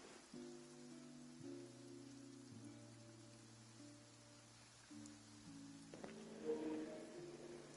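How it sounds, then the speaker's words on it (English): Soft, steady rain in Genshin Impact patters faintly beneath gentle sustained musical tones. "it was also raining"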